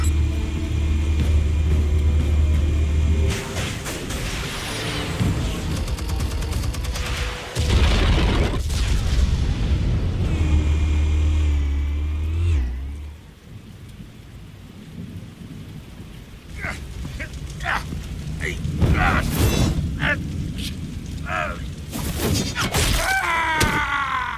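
A deep rolling explosion from Batman: The Telltale Series booms with heavy low rumble and crackling debris, dropping off into quieter rattles and scattered impacts.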